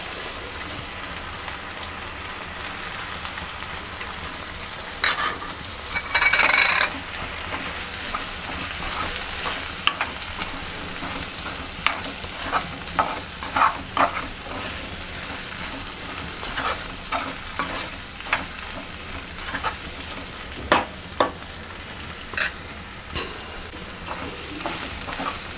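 Bhindi masala with fresh grated coconut being stirred in a pan, a low continuous sizzle with regular clinks and scrapes of a spoon against the metal, close and without speech.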